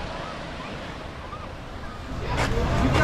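Ocean waves wash at La Jolla Cove beach in San Diego, a steady low surf roar with wind, swelling louder near the end.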